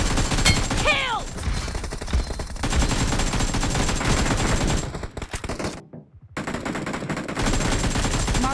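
Rapid gunfire crackles through a match of an arena shooter video game, with bursts of automatic fire and single shots running continuously over game music and effects, loud and close.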